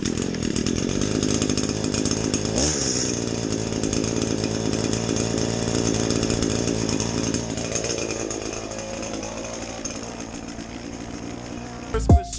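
A gas-powered string trimmer runs steadily and loudly close by for most of the stretch, its buzzing engine drone holding fairly even before easing off near the end, where a brief knock sounds.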